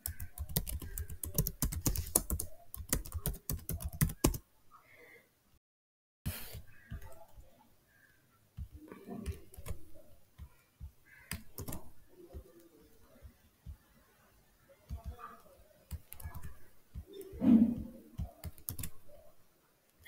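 Quick bursts of typing on a computer keyboard while filling out a form, close and crisp clicks in dense runs separated by short pauses, with a few isolated key taps later on.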